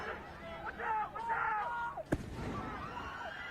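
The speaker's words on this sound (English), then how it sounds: "The Zionists are trying to instigate the crowd by throwing these giant fireworks in the middle of the crowd" A large firework bursts with one sharp, loud bang amid a protest crowd, followed by a lingering rumble as crowd noise and shouting voices continue around it.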